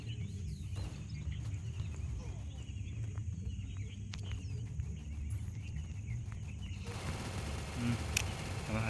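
Bursts of rapid gunfire from an MP40 submachine gun in the video game Free Fire rattle over a dense game soundtrack, with speech from a player running alongside.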